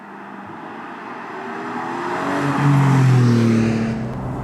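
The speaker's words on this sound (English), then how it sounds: "We'll put it in sports mode to have some more throttle input and exhaust sound" A Porsche 718 Boxster GTS 4.0 with its six-cylinder engine and exhaust in sports mode, roof open, rising into a loud rev that swells to a peak then eases, heard close and alone.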